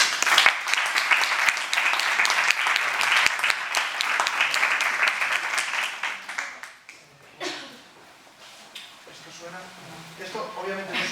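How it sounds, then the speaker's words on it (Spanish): Applause from a seated audience at a book-contest presentation, loud and dense for about six seconds, then thinning into scattered claps as talk and murmuring voices rise underneath. "Un aplauso para ellos."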